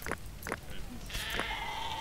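Sheep bleating in the game Dawn of Man, two short, wavering calls and a third, then a sustained tonal background, moderately close.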